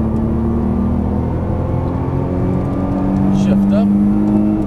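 A Nissan GT-R engine accelerates on a race track, a steady loud drone with a rising tone, heard from inside the car.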